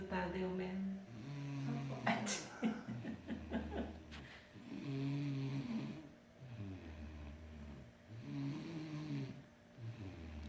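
A sleeping child snores in slow, rhythmic cycles, with deep rasping inhalations about every two to three seconds, close and fairly quiet. A man's chuckle and soft breathy sounds mix in between snores.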